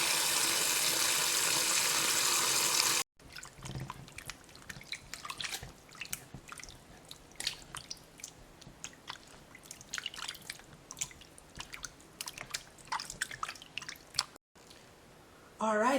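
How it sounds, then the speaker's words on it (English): Running water rinses excess salt off salted pigtail in a sink, with a loud hiss of water at first, then irregular splashing, dripping and wet squishing as the meat is handled, close up. "we're going to just add some water to rinse it off"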